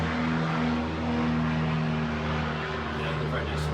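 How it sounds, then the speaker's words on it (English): Aircraft roaring overhead near an outdoor brewery setting, a loud, steady broadband rumble with a low droning hum that persists through the whole stretch, no words spoken. "It's always loud here as far as the planes and stuff."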